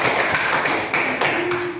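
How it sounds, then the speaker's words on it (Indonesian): A classroom of students claps for a classmate, a dense continuous patter of many hands at close range, steady throughout with no voices over it. "tepuk tangan buat Cika dari perwakilan kelompok kuning"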